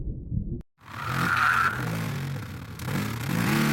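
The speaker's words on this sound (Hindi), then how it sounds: "अपनी पुरानी बाइक को स्टार्ट करने की कोशिश कर रहा था" An old motorbike engine cranks over and catches, settling into a steady mid-pitched running drone with a brief rise in revs, heard close and alone after a short quiet gap.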